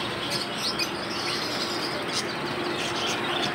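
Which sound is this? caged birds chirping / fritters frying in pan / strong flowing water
caged birds chirping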